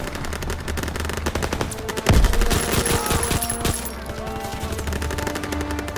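Sustained rapid automatic gunfire from Call of Duty: WWII, dense rattling bursts with a heavy boom partway through, loud and continuous without speech.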